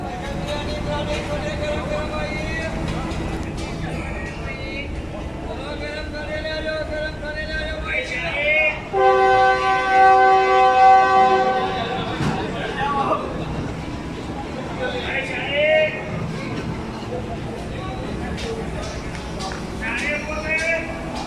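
Sir Syed Express train pulling into Rohri Junction station, a steady rumble of the train under a loud babble of crowd voices, with a burst of rising horn-like tones midway and people talking throughout.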